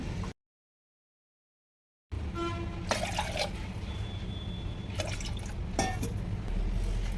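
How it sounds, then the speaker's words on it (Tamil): Water pours and trickles into a metal pressure cooker after a short silence, with a few soft clinks and splashes, fairly close. "இதில் நாலு கப்பு தண்ணி விடுறேன் நான்"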